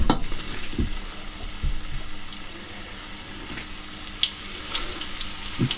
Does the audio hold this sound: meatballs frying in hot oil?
yes